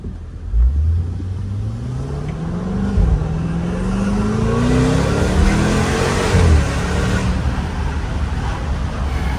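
A car engine hums and revs steadily, its pitch rising smoothly as it accelerates, close and continuous with no talking.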